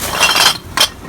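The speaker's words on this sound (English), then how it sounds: "Now we gotta go pick up the glass." Glass bottles picked up outdoors in the rain clink close by: a longer rattling knock followed by a short, sharp clink, with no talking.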